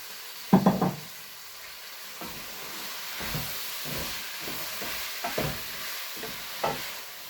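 Chicken keema with peas and potato sizzles in a pan while a spoon stirs it, a steady soft frying hiss broken by several scraping stirs, close by and with no talking.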